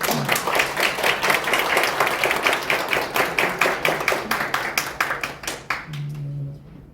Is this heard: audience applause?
yes